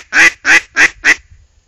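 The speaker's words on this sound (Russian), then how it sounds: "и вы уже нормально начинаете крякать" Four quick, loud nasal quacks from a Foiles Timber Rattler duck call in an even rhythm, close up, then silence.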